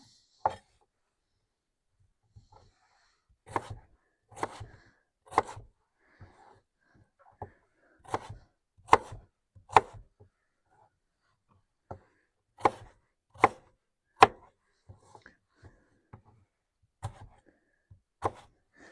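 A knife chops food on a cutting board outdoors in a national forest in Arkansas, with scattered sharp taps coming in short irregular bursts and quiet gaps between.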